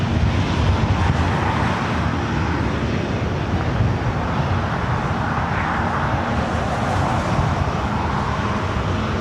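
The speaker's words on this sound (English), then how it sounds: "The distance, you can hear that 777 engine start." Boeing 777 jet engine spooling up far off at LAX airport, a broad steady roar and hiss with wind and background airport noise, no voices.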